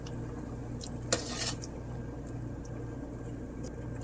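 A utensil stirs lamb bone broth in a pot, giving one brief metallic scrape and clink against the pot over a quiet steady background hum.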